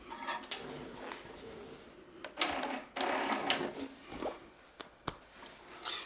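Pro-Stitcher computerized quilting machine stitching out a digital design, a steady mechanical whir with small ticks and a few louder clunks over several seconds, close by with no talk.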